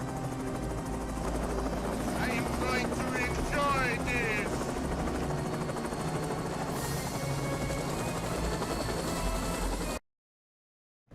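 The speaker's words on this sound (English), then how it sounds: "has been in the helicopter that has been chasing them the entire time, and he finally corners them." A helicopter in a movie action scene drones steadily throughout with loud rotor thumping, while someone speaks briefly over it and the sound cuts off near the end.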